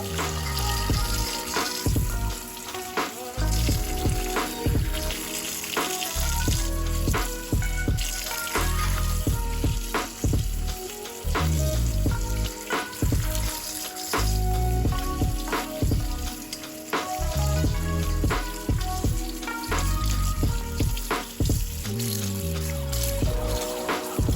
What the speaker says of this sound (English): You see I'm washing them over a colander so that the grit can wash right on through